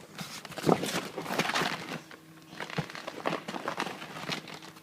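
A Waterwalkerz zip is pulled apart by hand at close range, giving a few seconds of dry crinkling, crackling and scraping with irregular sharp snaps and rustles.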